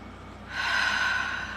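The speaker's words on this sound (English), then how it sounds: "In through the nose, out through the mouth." A single deep breath drawn audibly in through the nose during a calm morning guided-breathing moment, a soft rushing airflow that swells midway and holds, close and quiet with no talking.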